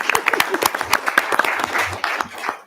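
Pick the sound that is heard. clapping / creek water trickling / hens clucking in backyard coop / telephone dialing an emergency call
clapping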